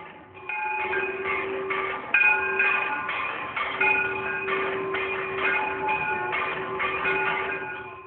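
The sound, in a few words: temple bells and conch during Ganga aarti, Haridwar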